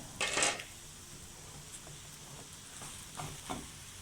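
A potato omelette cooks in a pan over a low flame, giving a soft steady sizzle with a brief louder crackle near the start and a few faint scrapes later.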